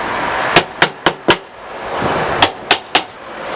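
A hammer taps a wedge into a flood barrier being installed at a community centre: two quick sets of four sharp metallic knocks over steady outdoor background noise.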